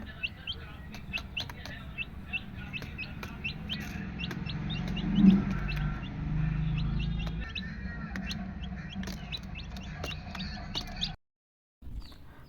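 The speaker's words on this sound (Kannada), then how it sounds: "ಬಾಕ್ಸಲ್ಲಿ ಕೋಳಿ ಮರಿಗಳನ್ನ ಇಟ್ಟಿದ್ದಾನೆ" Small chicks in a box peep continuously, with many short, high chirps overlapping close by against a low background hum.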